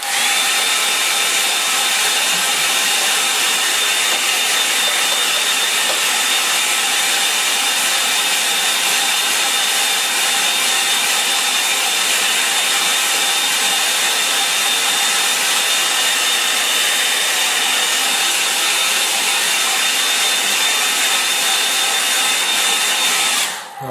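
A hair dryer blows steadily and loudly over a damp painting, its continuous whirring roar holding unbroken for the whole stretch with no talk, before cutting off at the very end.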